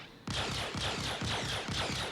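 Distortion guns firing at a Gladius ship in a space video game, a rapid, rhythmic burst of punchy repeated shots, loud and steady, with no voices.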